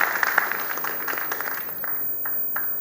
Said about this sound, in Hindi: जोरदार तालियों से स्वागत कीजिए देश के बड़े कवि भाई महेंद्र शर्मा का